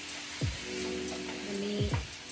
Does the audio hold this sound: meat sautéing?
yes